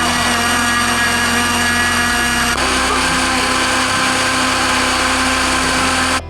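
Blender grinding cassava into fishing bait, a loud continuous whirring motor drone that steps down in pitch partway through and cuts off at the end, with no talk.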